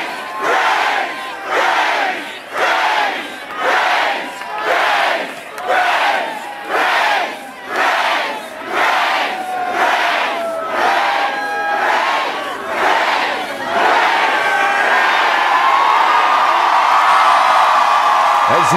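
A crowd of zombies in a zombie apocalypse game chants loudly in a steady rhythm of repeated shouted bursts, then swells into a continuous sustained roar.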